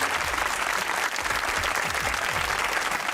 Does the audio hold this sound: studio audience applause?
yes